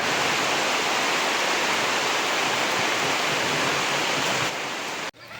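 Steady, dense hiss of heavy rain pouring over flooded rice paddy fields during transplanting, loud and continuous without voices, dropping away abruptly at the very end.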